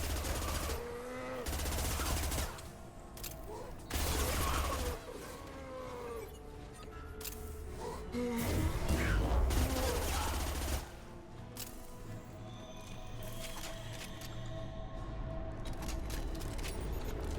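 Rapid submachine gun bursts ring out in a Mass Effect 2 firefight, dense repeated volleys with explosions and game effects layered over a busy battle soundscape, close and loud throughout.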